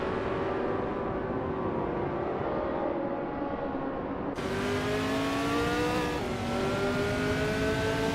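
Several race car engines drone continuously through a video game race, one leading car a 1968 Crossall 15F, their harmonic whines rising and falling in pitch as the cars accelerate, with a louder, brighter engine cutting in partway through.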